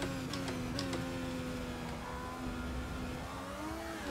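A Lotus Formula 1 car engine revs in Forza 6 on the Nürburgring Nordschleife, a faint steady whine with small pitch shifts, heard alone.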